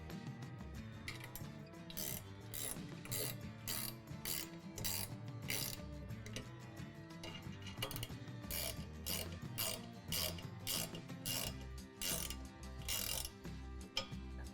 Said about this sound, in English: Make sure to use a wrench on the head of the bolt when tightening the hardware.